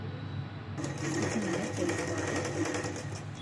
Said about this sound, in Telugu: ఇలా పట్టుకొని స్టిచ్చింగ్ అనేది చేసుకోవాలి